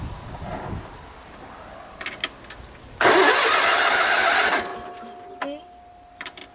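An old Sears 16/6 lawn tractor engine that had sat for a few years cranks with a roaring start-up burst, runs loudly for about a second and a half, then cuts out, followed by faint clicks and a thin steady tone.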